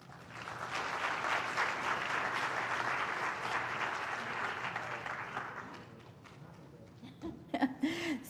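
Lecture-hall audience applause welcomes a speaker, dense steady clapping that fades over several seconds before a voice begins speaking.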